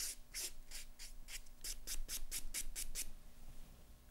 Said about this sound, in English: Buff the nail with a clean finish buffing block.